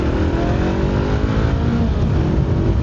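Honda CBR 500R motorcycle accelerating hard on a cold-weather ride, a loud, close engine note rising steadily in pitch through the gears over dense wind roar.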